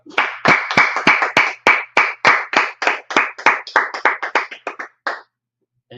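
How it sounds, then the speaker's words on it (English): Audience clapping during a religious scripture and law class gathering: about twenty sharp, distinct claps in a steady rhythm, close and loud, stopping abruptly near the end, with no talk over them. "Clap it up."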